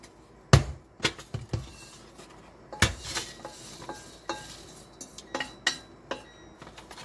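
A spatula stir-fries almonds, shishito peppers and anchovies in a pan, giving irregular metallic clanks and scrapes: a few loud knocks early on, then lighter rhythmic clinks close by.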